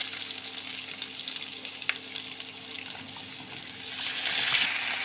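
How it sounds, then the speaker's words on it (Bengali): Potato and onion fry in a pan, a soft steady sizzle with light stirring clicks, swelling slightly louder toward the end, with no voices. "পেঁয়াজের সঙ্গে আলুটাকে ভালোভাবে ফ্রাই করে নেব।"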